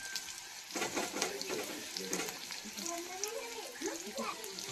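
A wild leafy vegetable from the farm being sautéed in a pan, giving a soft steady sizzle with stirring scrapes, while a voice talks over it for much of the clip.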